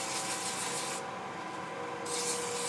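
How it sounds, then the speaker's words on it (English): A wooden coffee scoop turning on a lathe has its bottom sanded, giving a steady close rubbing hiss that thins briefly in the middle and then picks back up, with a faint motor hum underneath. "we're just going to sand that bottom off"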